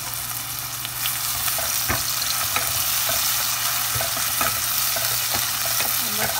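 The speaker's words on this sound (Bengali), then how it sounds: "পেঁয়াজ দিয়ে বাগার দেওয়া হবে। পেঁয়াজ দিয়ে দিচ্ছি, এখন এগুলো একটু ব্রাউন হবে।" Onions fry in hot oil for a fish curry, a constant bright sizzle broken by repeated scrapes and clicks of stirring, close and fairly loud with no speech.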